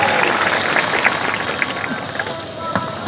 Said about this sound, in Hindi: जनता जनार्दन की भी जोरदार तालियों से सम्मान करें माननीय विधायक जी का।